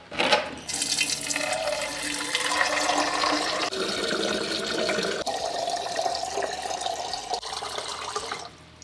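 A tap runs hard and steadily into a container, a continuous rushing splash of water filling it for several seconds, loud and close with no talk.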